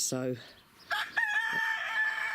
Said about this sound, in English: one of the hens in the pig house lot is going broody because she's making clucking noises